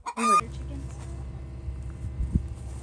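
A hen gives a short, loud cluck near the start, followed by quieter low rustling and faint background activity.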